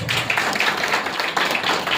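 An audience claps at a poetry recital held at a memorial gathering, a dense, continuous patter of many hands rising and falling in loose waves.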